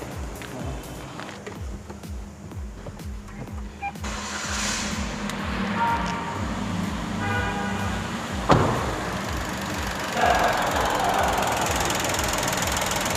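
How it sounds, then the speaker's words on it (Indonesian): A 2021 Toyota Raize's three-cylinder engine idles with a steady, slightly uneven low throb and faint mechanical ticking, with a brief clunk partway through. "Suara mesinnya benar-benar 3 silinder banget"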